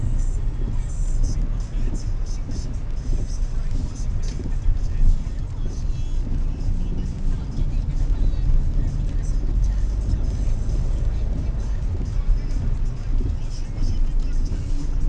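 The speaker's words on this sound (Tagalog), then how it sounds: "Tsaka nasa likod mo na may sasakyan" A car rolls along behind on a rural road, a constant low engine and tire rumble filling the background while people talk nearby.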